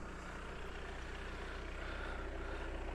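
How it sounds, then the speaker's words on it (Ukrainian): Volkswagen Passat B8 from 2016 with a 2.0 TDI diesel engine and DSG6 gearbox, idling steadily and evenly at close range. The engine runs alone with a constant low rumble. "автомобіль працює рівномірно, ніяких лишніх звуків нема"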